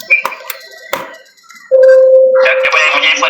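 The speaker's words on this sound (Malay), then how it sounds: "Siapa yang punya handphone tu bunyi?" A mobile phone ringtone or notification chiming from outside, a sustained tonal ring that rises in loudness and continues after brief clinks and clatter.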